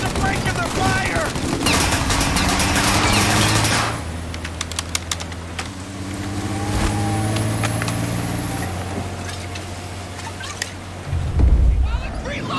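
A shootout in Mafia Definitive Edition, with loud rapid bursts of gunfire crackling over the rumble of engines. Shouting voices join in, and the firing pauses before more shots ring out.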